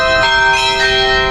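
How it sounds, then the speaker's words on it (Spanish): A set of bells chimes on a street in Curaçao, ringing a steady, eerie tune that sounds like Halloween music. The tones sustain and overlap, with soft strikes repeating about every third of a second over faint background noise. "hay como un juego de campana que suena ahí"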